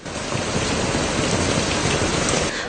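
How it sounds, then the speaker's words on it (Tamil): Continuous heavy rain falls in coastal Tamil Nadu, a steady, dense, broadband hiss of drops with no pauses and no voices. "கடலூர் புதுவை நெல்லை போன்ற மாவட்டங்களில் தொடர்ச்சியான மழை பெய்கின்றது"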